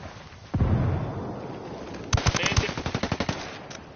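Gunfire in the Ghost Recon Wildlands 4v4 Ghost War mode: a heavy blast hits early, then rapid automatic bursts of shots crack loudly and close in a steady, repeating rhythm, with no talk over them.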